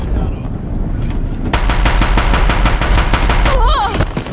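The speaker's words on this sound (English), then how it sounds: "If the Deathbringers keep firing, this bridge will go." Deathbringer machines in Horizon Zero Dawn fire loud, rapid bursts of heavy gunfire in a steady rhythm, close and dominant over a roaring background, with a brief shrill mechanical whine near the end.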